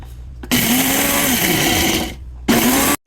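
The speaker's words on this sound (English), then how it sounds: "So I'll grind it in my blender." A blender grinds dehydrated onions into powder, roaring loud and close in two bursts with a brief drop between them, a high whining motor over a dense grinding rattle.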